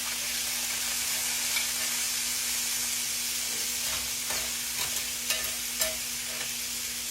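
Pork loin fries in a pan with a steady, loud sizzle and hiss throughout, plus a low constant hum and a few faint clicks and scrapes. No one speaks.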